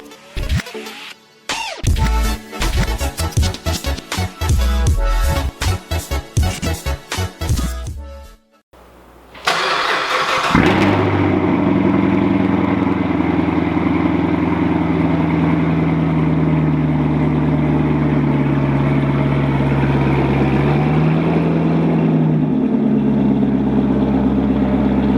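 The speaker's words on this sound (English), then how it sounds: "we have the AWE track exhaust, and it might be the last time you ever hear it on the channel with a cold start" An early-VIN Corvette Z06 fitted with an AWE track exhaust cold-starts after rapid clicking and cranking, then catches with a loud bark and settles into a deep, steady high idle that holds close and strong.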